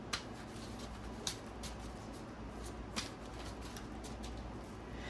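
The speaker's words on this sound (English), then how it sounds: "And I usually shuffle until a card jumps out." A deck of tarot cards being shuffled by hand, soft continuous riffling and sliding with a few sharper snaps, quiet and close with no talking.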